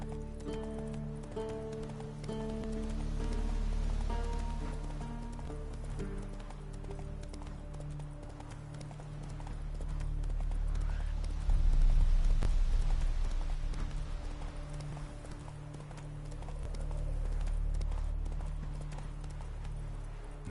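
Hooves of Roach, Geralt's horse in The Witcher 3: Blood and Wine, galloping in a steady rapid rhythm, with rolling swells under game music and ambience and no speech.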